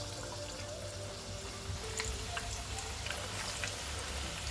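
Vegetable bhaji batter dropped into hot oil, giving a steady close crackling sizzle with scattered pops throughout, no voices.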